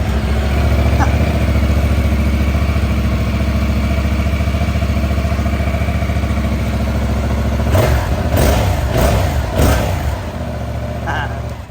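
A 2025 Yamaha R7 motorcycle engine runs at a steady close idle, then blips through several sharp revs near the end before settling back down.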